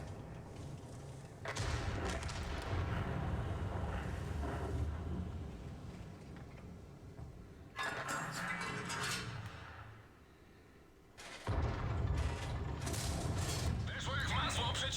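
Loud booming tank cannon blasts in World of Tanks, a 122 TM firing at an IS-4, with long rumbling tails, repeated a few times over a constant engine drone, with someone talking in between.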